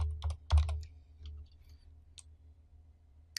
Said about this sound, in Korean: 이거를 컨트롤 Alt 키를 통해서 복사를 해주고